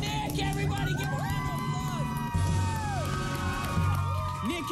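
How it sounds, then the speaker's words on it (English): A studio audience at a live children's television broadcast cheers and whoops loudly. Shouts and yells rise over a sustained crowd roar, and voices are also heard. "Here's Nick, everybody. Give a round of"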